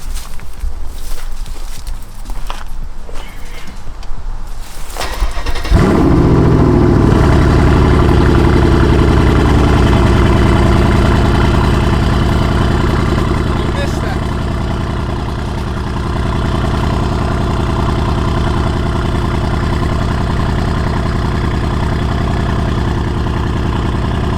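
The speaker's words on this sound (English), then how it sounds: "I'm gonna turn the engine on so you guys can hear the exhaust." A Mercedes CLS 63 AMG S engine cranks and fires with a sharp bark, then settles into a loud, rumbling, burbling exhaust idle that stays steady and close with no talk.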